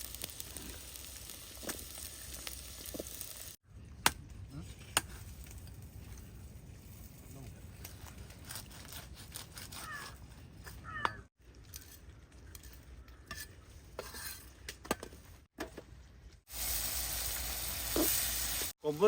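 Oil, ginger, garlic and onions frying in a pan give a low, uneven sizzle broken by abrupt gaps and clattering stirs, with a voice talking intermittently nearby and a louder hissing stretch at the end.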